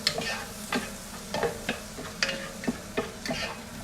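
Onions frying in a pan while being stirred, with a steady sizzle broken by repeated scraping strokes of a utensil at a fairly even rhythm, close up, no talking.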